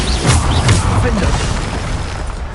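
Bombarda spell explosions in Hogwarts Legacy, a dense run of low booming blasts and bursts that stays loud throughout, with a voice speaking over the spellcasting.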